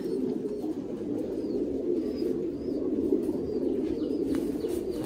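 Thai Titan pigeons in a crowded loft coo in a continuous low burbling murmur, with a few faint chirps over the steady flock sound and no talk.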